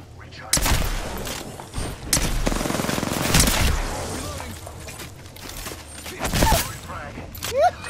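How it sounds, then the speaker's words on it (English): In a video game, several bursts of gunfire hit the player. The sharp, loud volleys come in clusters with brief gaps between them. "Getting shot at. Shots fired, and they're hitting me."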